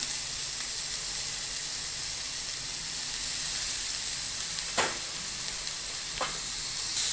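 A steady, soft sizzle of cabbage frying in a pan for a cabbage egg fry hisses throughout, with a couple of brief louder crackles near the end and no talking.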